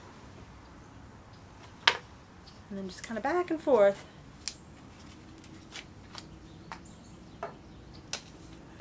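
Someone briefly talks while a thin strip of veneer edge banding is snapped by hand, giving a few sharp, isolated cracks and small clicks spread over a quiet background.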